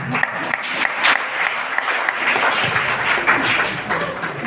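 Audience at a poetry recitation competition clapping steadily, a moderately loud crowd of hands with a busy, even texture.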